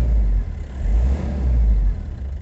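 Toyota Land Cruiser LJ70 diesel engine with turbo pulling under acceleration, a loud, steady low rumble that swells and eases a couple of times, heard close with no talking.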